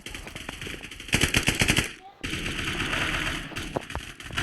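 Rapid automatic gunfire in the blocky 5v5 shooter Blockfield, with close bursts of rattling shots and a brief pause, while a player's voice talks over the shooting.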